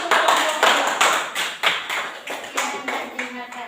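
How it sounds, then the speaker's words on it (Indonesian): Students in a classroom clap for a group of presenters, a close, loud burst of hand clapping in several quick waves that fade and restart, with no talk over it. "Ya, tepuk tangan untuk kelompok"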